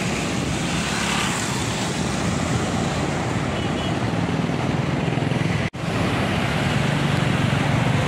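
Floodwater of the swollen Tinau river in Butwal surging past, a broad continuous roar mixed with wind buffeting the microphone, loud and steady, broken by a single sharp click near the end.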